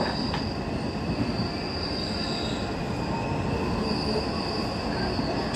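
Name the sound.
KRL electric commuter train running on rails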